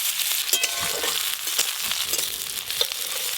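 Panch phoron five-spice and chopped onion fry in hot oil in a pan for a crab and ash gourd dish, giving a loud, continuous sizzle with the scrape and clatter of stirring throughout.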